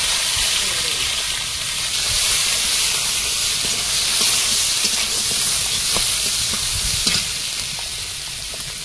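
Chopped onion and garlic hit hot oil spiced with panch phoron, producing a constant dense hiss and sizzle with scattered pops and light scraping, continuous and fairly loud throughout.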